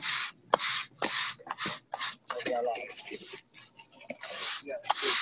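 Repeated gritty scraping and brushing strokes of sand being spread over pavers, in irregular bursts close to the mic, with a voice speaking briefly midway.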